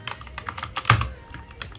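Rapid close-up typing on a computer keyboard, a quick stream of crisp key clicks with one heavier thump partway through.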